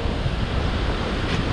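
Large storm waves surge onto a beach at Ordzhonikidze in Crimea, a dense, loud wash of churning surf and wind noise that continues without a break.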